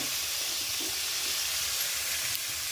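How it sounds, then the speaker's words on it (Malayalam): Coriander seeds and dried chillies dry-roast in a pan for a mutton curry, giving off a faint, steady sizzling crackle throughout, with no talking. "നമ്മൾ മല്ലിയും മുളകും എല്ലാം വറക്കുന്നുണ്ട്"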